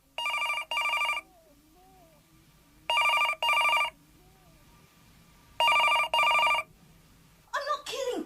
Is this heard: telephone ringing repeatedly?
yes